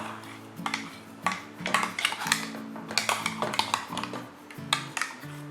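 Ground tomato paste is stirred into a pot for tomato kulambu, with a spoon repeatedly scraping and clinking against the metal in an uneven rhythm, close and moderately loud with no talking.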